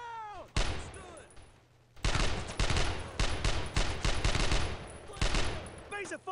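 Dense automatic-weapon fire from the World War II shooter game Brothers in Arms: Road to Hill 30, loud bursts and rattling volleys crowding together after a brief opening pause, with faint voices at the start and end.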